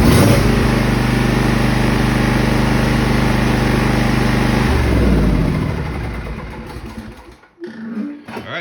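A Briggs & Stratton engine on a Pull-In Pro riding lawn mower cranks and catches, running loud and steady up close for several seconds before dying down and sputtering off near the end.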